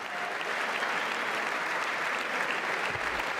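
Loud, steady applause fills a packed chamber at the State of the Union, dense clapping from a large crowd that continues without a break.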